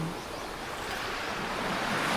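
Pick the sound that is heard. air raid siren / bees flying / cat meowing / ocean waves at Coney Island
ocean waves at Coney Island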